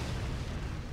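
A cannon blowing up in the artillery fort-building game Forts, heard as one steady, dense low rumble of explosion that stays loud for the whole second with no distinct separate bursts.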